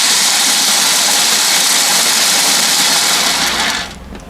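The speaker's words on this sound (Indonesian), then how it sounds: "Sekarang kita haluskan kacang tanahnya menggunakan food processor." A Philips food processor grinds peanuts with a loud, steady high-pitched whir that runs continuously, then winds down and drops away near the end as the motor is switched off.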